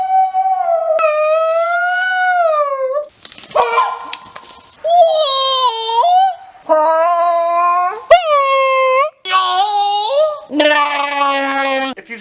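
A person's voice imitates a Bigfoot call in a series of loud, long, wavering howls, some rising into whoops, separated by brief pauses and very close.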